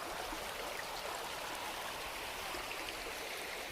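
A winter stream flows steadily along a backpacking trail, a continuous broad rushing and babbling of water at moderate level with no voices.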